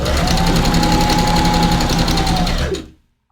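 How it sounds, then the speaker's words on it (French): Sewing machine stitching the seam allowance of a fabric cushion toward the corner mark, a loud, steady rapid whirr running continuously for nearly three seconds before stopping abruptly. "Et on vient coudre là, jusqu'à la marque du coin ici."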